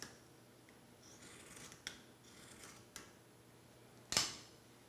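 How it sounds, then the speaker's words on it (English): A single crisp scissor snip cutting straight across t-shirt fabric, with a few faint soft rubs and brushing sounds before it in a quiet room. "Take your scissors and cut straight across."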